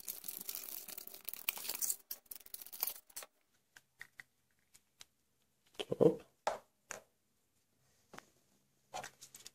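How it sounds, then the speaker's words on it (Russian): Foil wrapper of a Kinder Surprise chocolate egg being unwrapped, crisp crinkling and tearing bursts separated by quiet pauses, close and fairly soft, with faint voices in the background. "и открываем последний киндер"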